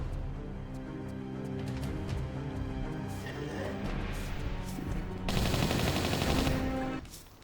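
Enemy gunfire aimed at the player in Tomb Raider 3, a run of rapid repeated shots over game music, ending in a louder dense burst before cutting off.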